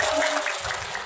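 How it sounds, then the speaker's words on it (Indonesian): An audience at a comedic religious gathering claps briefly and softly, a short muffled patter in a reverberant room with no clear voices. "Jangan tepuk tangan dong Bu."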